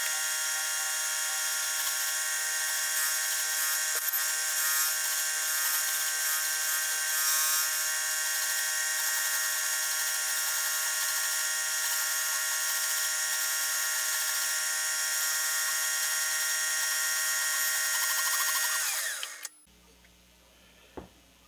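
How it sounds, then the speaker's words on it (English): A milling machine cuts a drill grinder part down to a scribe line, giving a steady, high-pitched whining hum that runs continuously and then winds down and stops near the end. "we're just gonna mill down to a scribe line"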